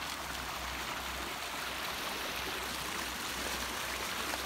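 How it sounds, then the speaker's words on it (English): Hurricane Florence floodwater rushes steadily past, a loud, unbroken churning roar of flowing water with a broadband hiss, close by and with no voices over it. "It's very dangerous to walk through flowing water during a hurricane."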